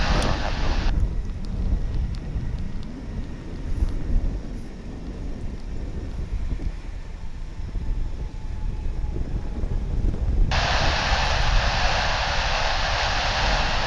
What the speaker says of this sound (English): So back to the airplanes here.